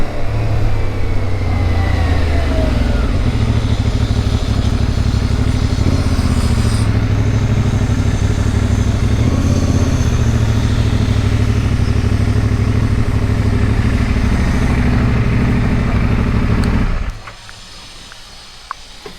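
A motorcycle engine runs steadily and loud near a hostel, with a rough, continuous drone and slight revving that cuts off abruptly near the end, leaving quiet background.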